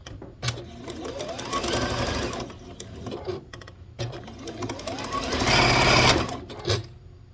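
A sewing machine stitching a pieced quilt block runs in loud, close whirring bursts, pausing briefly between runs and then speeding up again.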